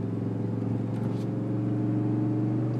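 A 2003 Dodge Ram 1500 with the 4.7 engine drives along country roads, its low steady engine drone heard from inside the cab.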